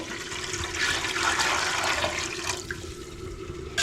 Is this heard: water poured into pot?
yes